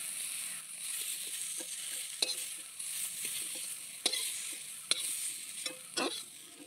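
Flat beans fry in a pan with a soft continuous sizzle, broken by occasional sharp scrapes and taps of a stirring spoon, quiet and close.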